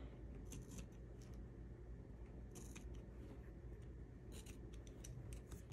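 Scissors snipping through a pink planner sticker at a desk, several quick crisp cuts standing out over a steady low room hum.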